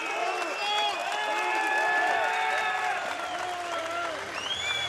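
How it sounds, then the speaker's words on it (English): Sustained crowd applause and cheering fill an arena after the first round of a live SENSHI 25 MMA fight, a steady dense roar of clapping throughout with no clear speech. "So the crowd very appreciative of that first round."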